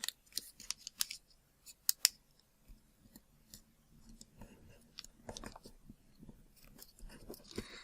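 Origami paper is folded and creased by hand into a Halloween chopstick bag, with soft crinkles, scattered crisp taps and rubbing swipes, close up and quiet, with no talk.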